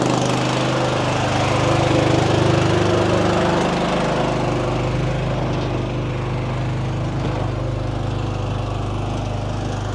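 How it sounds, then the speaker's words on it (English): A spray aircraft's fungicide tank recirculates and agitates with a loud, steady mechanical drone like a small engine, its low rumble dipping slightly partway through and running on continuously without voices. "Tank is getting recirculated and agitated. It's a little loud"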